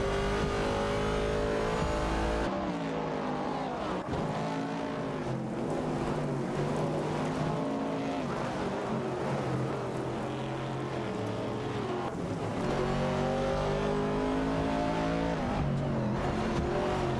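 Race cars in a video game race roar continuously at loud volume, with engines revving and shifting pitch as they jostle for position, and no talk over them.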